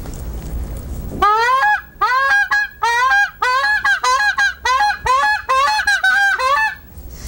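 Loud, close honks from a hand-held reed game call blown to imitate a goose, a quick run of about a dozen sharp two-note calls in rhythmic bursts after a brief quiet start.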